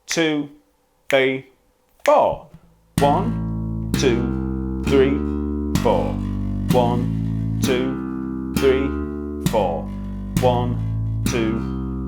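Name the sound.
bass guitar quarter notes played with thumb rest stroke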